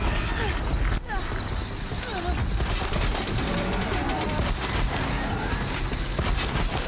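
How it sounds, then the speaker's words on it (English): Corrupted Behemoth machine in Horizon Zero Dawn unleashing its rock explosion attack: loud, dense crashing and rumbling blasts with a sharp impact near the start, continuing as a sustained barrage of debris and booms. "And he's doing the rock explosion."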